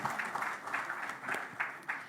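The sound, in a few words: audience applause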